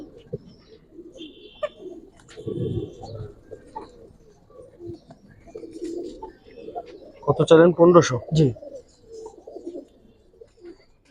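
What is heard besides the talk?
pigeons cooing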